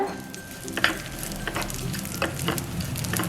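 Raisins, poppy seeds and dry grated coconut roast in a hot pan, giving a soft steady sizzle broken by scraping stirs and light clinks at irregular intervals, close and fairly quiet.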